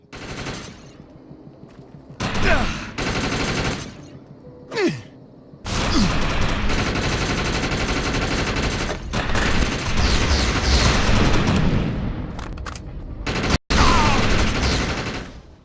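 Sustained bursts of automatic gunfire from the video game Defiance with the overcharge power active, loud and continuous for long stretches, broken by short gaps, single sharp shots and whooshing effects.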